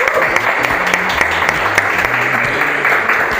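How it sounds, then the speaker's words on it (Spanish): Congregation applause in a church service, dense clapping throughout, with a low speaking voice running beneath it. "esta iglesia lo recibe con un aplauso como siempre lo hacemos"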